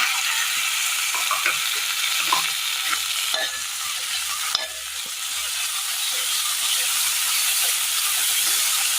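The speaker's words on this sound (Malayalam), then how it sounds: "ചെറുതീയിൽ വേണം നമ്മളിതൊന്ന് വാട്ടിയെടുക്കാനായിട്ട്" Green chili and tomato sauté on a low flame for a Kerala curry, giving a steady, close hiss of sizzling with occasional soft stirring clicks throughout, and no voices.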